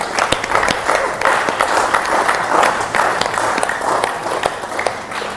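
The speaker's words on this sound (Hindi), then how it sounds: "एक बार ताली बजा दो।" A yoga class claps for the children, a loud, close burst of many hands with distinct sharp claps within a dense patter lasting several seconds, no speech over it.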